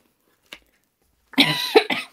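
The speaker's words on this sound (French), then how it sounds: "J'ai une petite toux qui me gêne." A single short cough, then a longer burst of harsh coughing and throat clearing, close to the microphone in an otherwise quiet room.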